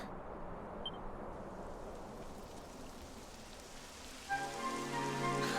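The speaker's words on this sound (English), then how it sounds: "It would have to go and start raining" Steady rain falls in the Dragon Quest XI video game, a dense hiss that continues throughout with no voices, and game music fades in near the end.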